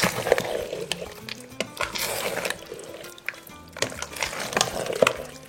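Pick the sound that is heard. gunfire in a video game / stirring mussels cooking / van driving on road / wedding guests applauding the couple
stirring mussels cooking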